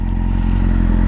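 A 2002 Yamaha R1 sport bike engine runs steadily at close range, a loud, even low rumble with a faint mechanical clatter and no speech.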